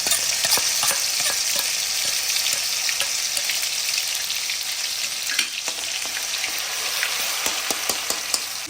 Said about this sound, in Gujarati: તેલ ગરમ થઈ ગયું છે, એમાં આપણે રાઈ નાખી છે અને થોડું આપણે એમાં જીરું નાખીશું।